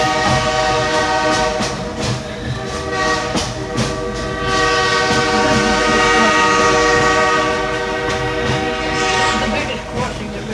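Green Mountain Railroad excursion train on its fall foliage ride near Chester, Vermont, sounds its horn in long sustained blasts over steady rolling rumble of the cars, loud and close from inside a passenger car, with no talking.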